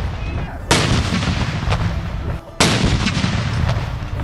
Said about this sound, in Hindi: दिन का आगाज तोपों की सलामी से किया गया।